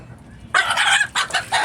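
Domestic chickens break into loud, close clucking and crowing after a brief quiet moment, several short choppy bursts following one another.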